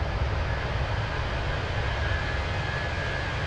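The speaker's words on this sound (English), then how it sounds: "you can hear the sound of the engine when I'm kind of at the rear side of the aircraft" Airliner engine noise from a Fenix A321 in Microsoft Flight Simulator 2024, heard from the rear of the aircraft: a steady, broad, loud roar with a deep low rumble that holds constant throughout.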